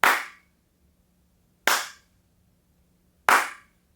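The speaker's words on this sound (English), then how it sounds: "here's a little echo test, just a little clap, just so you can hear how quiet it is" Three sharp single hand claps spaced about 1.6 seconds apart in a quiet, freshly insulated tiny-house room, each snapping loud and close then dying away almost instantly with very little echo over near silence.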